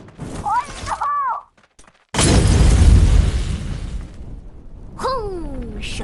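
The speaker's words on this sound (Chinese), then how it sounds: "手雷发射，轰！ 手榴弹。" A grenade blasts in the shooter game Crossfire: Legends, a single loud, booming explosion with a rumbling tail, heard between brief stretches of voice.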